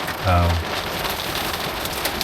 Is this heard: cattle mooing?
no